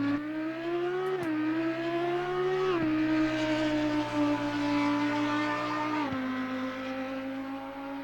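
Audi EVO GT3 race car lapping in Assetto Corsa Competizione, its engine pitch climbing steadily and dropping sharply at three gear shifts, loud and continuous with no talk.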